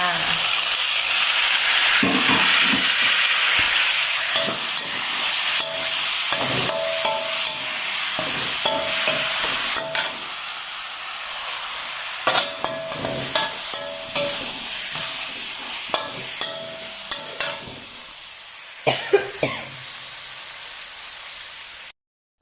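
Mekong giant catfish stir-fried with herbs in a wok, a steady close sizzle and hiss running throughout with intermittent scraping stir strokes and clanks.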